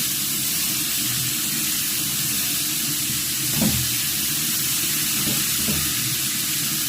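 Yardlong beans fry and get stirred in a pan for a simple vegetarian niramish dish, giving a steady hiss with a few soft scraping stirs partway through.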